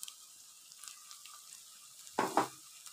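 Tomatoes drop into a pan of frying garlic and ginger, setting off two loud bursts of sizzling after a quiet stretch of soft, low background crackle.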